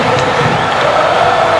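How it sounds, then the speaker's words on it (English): Roaring arena crowd in the WWE 2K25 wrestling video game, a dense, continuous wash of cheering and shouting that stays loud and even throughout, with no other sounds standing out. "you hear this crowd here in Lincoln completely on the side of the YouTube champion"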